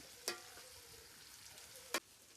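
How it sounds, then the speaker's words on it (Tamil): Onions sautéing in a pan for a village-style chicken dish: a faint, even frying hiss broken by two sharp spoon clacks against the pan. "வெங்காயத்தை நல்லா வதக்கணும் காய்ஸ்"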